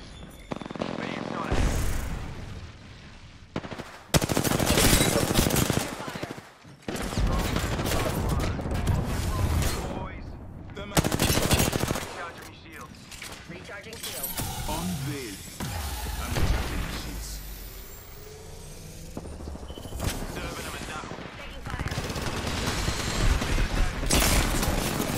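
Bursts of automatic gunfire and explosions in the video game Apex Legends, with loud volleys coming and going amid mechanical clatter, while a player talks at times over the fighting.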